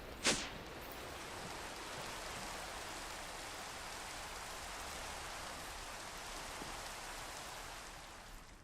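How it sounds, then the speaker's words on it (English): Rain falling in the Minecraft modpack All the Mods 7: a steady, faint wash of hissing rainfall continuing evenly throughout, with a brief sharp click at the start. "now that the rain is gone"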